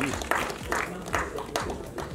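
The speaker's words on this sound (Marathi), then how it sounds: "जोरदार टाळ्या एमीसाठी." A crowd claps for an actress at the trailer launch event for the film Dharmarakshak Mahaveer Chhatrapati Sambhaji Maharaj. The applause is short, with distinct swells recurring about every half second, heard fairly close in a hall.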